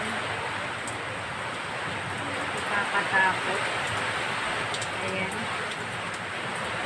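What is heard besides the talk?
strong wind and rain during typhoon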